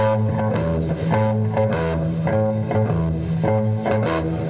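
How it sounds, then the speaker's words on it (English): A bass guitar plays a steady, punchy line of low notes with a regular rhythm, fairly loud and alone with no talking. "most bass players sound like this"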